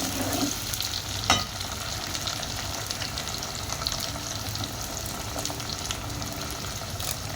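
Onion and tomato frying in a pan with curry leaves and coriander for a Malay meat curry (daging kari), a steady close sizzle with stirring scrapes and one brief knock, no talk.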